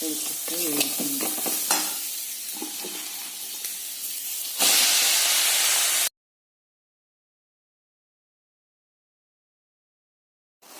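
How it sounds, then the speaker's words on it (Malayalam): Spinach stir-fried with chili in a pan for a Kerala-style thoran, giving a loud steady sizzle and hiss with stirring scrapes that cuts off abruptly midway, followed by silence. "മുളക് വെച്ച് കുറച്ച് വാടിയിട്ട് ഇതിലേക്ക് ചീര എടുത്തിട്ട് വേവിക്കുന്നു"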